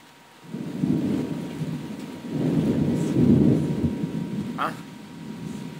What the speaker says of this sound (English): there's a tornado right now hitting it